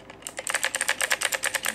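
Clicky computer keyboard with a palm rest, typed on at a home PC desk setup: a quick, steady run of sharp, close keystrokes with no talking.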